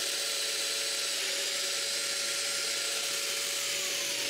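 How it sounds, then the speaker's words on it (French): A Festool Domino joiner whines steadily while cutting mortises in thick wood, giving a continuous, fairly quiet motor tone with high cutting hiss and no talk. "je marque l'endroit où vont les mortaises de domino et je les perce"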